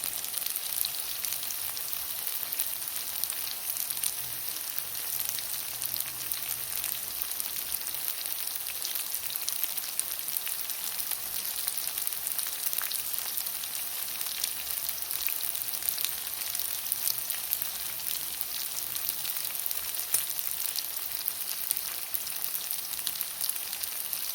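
Bean sprouts and tofu sauté in a hot pan, giving a steady, close, loud sizzle of frying with a dense crackling hiss that holds evenly throughout, with faint stirring underneath and no voices.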